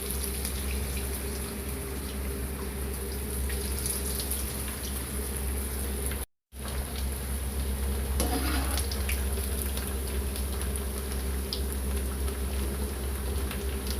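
Sweet corn fritters fry on low heat in a pan of oil, giving a continuous, fairly soft sizzle and bubbling that carries on steadily, with a brief dropout in the middle.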